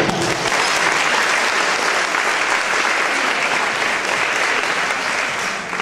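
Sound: audience applause welcoming the speaker

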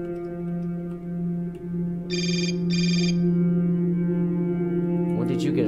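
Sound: cell phone ringing in the video game Hotline Miami

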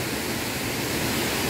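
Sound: mountain waterfall by a natural pool

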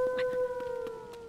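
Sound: wolves howling in Zelda: Tears of the Kingdom video game

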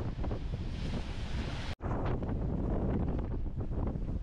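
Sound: wind at the rocky shore while fishing

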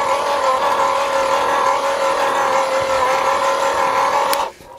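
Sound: battery powered AEG post hole borer with 1 foot auger drilling

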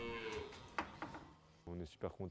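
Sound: Normandy cows mooing

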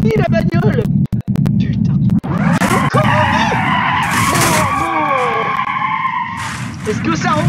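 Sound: car braking and skidding in BeamNG.drive video game

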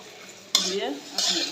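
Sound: frying tomatoes with spices in pan

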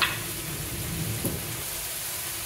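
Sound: jalapeno and garlic ginger paste sizzling in pan

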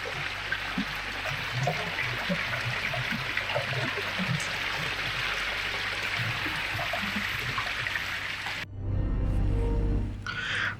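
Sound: hill stream water babbling over rocks

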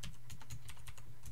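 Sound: typing on a computer keyboard

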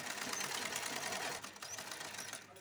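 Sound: sewing machine stitching cloth onto lining

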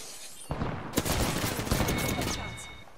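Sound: gunfire in the video game Apex Legends

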